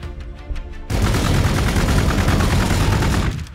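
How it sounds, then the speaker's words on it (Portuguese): Sustained burst of gunfire in the Warhammer 40k: Gladius Space Marine video game, a dense, loud, continuous rattle of shots that begins abruptly after a quieter opening and runs for several seconds before easing off. "Eu vou atirar."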